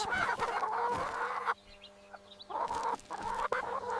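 Laying hens clucking and fussing over natural feed on a countryside farm, several birds close by in bursts, with a quieter pause in the middle before the clucking resumes.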